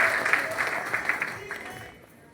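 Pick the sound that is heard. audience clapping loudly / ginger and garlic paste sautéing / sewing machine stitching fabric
audience clapping loudly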